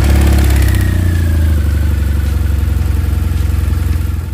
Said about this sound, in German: Starten wir nun das Motorrad